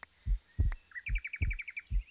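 Birds chirp in a Minecraft Lord of the Rings mod, a quick run of bright repeated tweets over several low, thumping game sounds.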